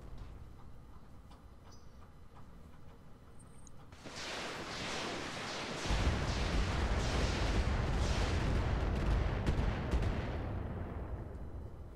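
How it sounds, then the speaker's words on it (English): Gunfire erupts in the Roguetech BattleTech mod, a dense, loud barrage of rapid weapon fire and heavy booming impacts that starts abruptly and rumbles continuously with a deep low-end roar. "Stop shooting me!"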